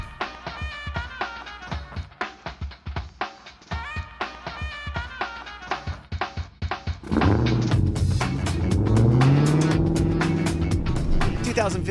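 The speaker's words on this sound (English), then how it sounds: "'15 Dodge Challenger SRT Hellcat." A 2015 Dodge Challenger SRT Hellcat muscle car roars as it accelerates, a loud sustained engine drone rising in pitch that takes over after a stretch of rhythmic, choppy idling and revving.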